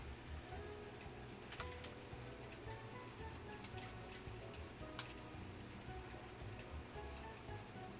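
Heavy rain falling outside, caught faintly by a desk microphone indoors during a live game stream; a constant low wash of rain with occasional sharper drop ticks, no talking.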